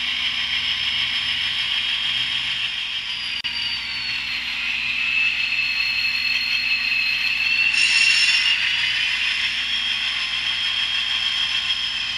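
A train pushes back slowly on rails with a steady rumble and a long, high metallic wheel squeal that wavers, briefly joined by a brighter screech.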